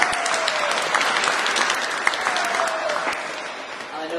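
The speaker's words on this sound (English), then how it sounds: "well I think that deserves a round of applause" A church congregation at a Pentecost Solemn Mass breaks into sustained applause, dense steady clapping that fills the space and tapers slightly toward the end.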